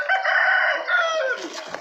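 A rooster crows among chickens and ducks on a Thai farm, one drawn-out crow close by, fading at the end.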